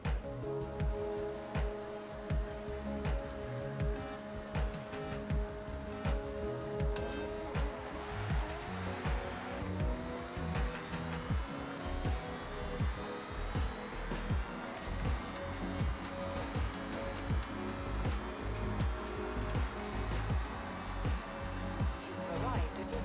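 Engine of a Toyota Starlet Glanza V in Forza Horizon 6 on an untuned half-mile run without drag tires, a steady loud drone climbing in pitch through the gears, with talk over it.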